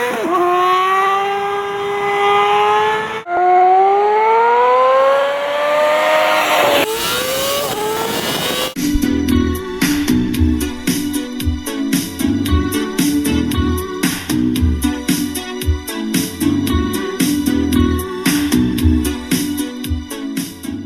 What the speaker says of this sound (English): Just out here in the country, just riding my